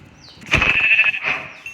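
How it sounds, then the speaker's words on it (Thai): A sheep bleats in Minecraft, one drawn-out wavering bleat heard close and alone. "ผมเจอแกะแล้วเจอแกะแล้ว"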